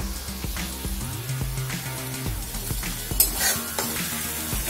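Tomato paste sizzles and fries in a pan of vegetarian kadhai paneer masala with Kashmiri red chilli and turmeric, a loud steady crackle with stirring scrapes and clinks, close up and with no talk.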